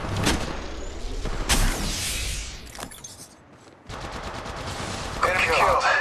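Bursts of automatic gunfire from Apex Legends Mobile, loud sharp volleys with a brief lull midway, then rapid firing resumes alongside a synthetic game voice announcing combat status.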